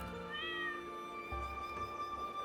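A cat meows in a video game, a drawn-out tonal mew over a steady synthetic background hum, moderately quiet.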